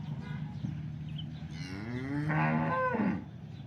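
A local Banaskantha cow lets out a single drawn-out moo that swells and fades in the middle, close by over a constant low background hum.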